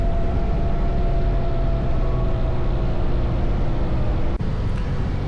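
Steady engine and road roar from a BMW motorcycle under way, picked up by an X4 action camera mounted on the frame near the shock, a continuous dense rumble with a brief dropout near the end.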